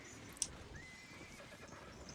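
Spectral bone horse from a video game lets out a single quiet, thin whinny, a short rising neigh heard alone over a soft ambient game background.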